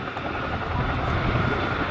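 Chinook twin-rotor helicopter at the Duxford summer airshow, a loud, steady, broadband engine and rotor roar holding constant without pause, with no talk over it.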